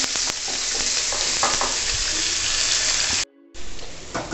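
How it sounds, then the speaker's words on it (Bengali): Potatoes frying in a pan, a loud close sizzle with stirring clatter that briefly cuts out near the end before resuming, no talking. "আলুগুলো একটু ভেজে নিই"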